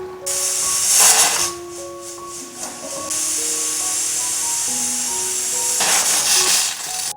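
A pressure cooker boiling khamalu (yam) lets out a loud, sustained steam whistle with a rising hiss and tonal squeal, easing briefly before hissing again, close and without speech.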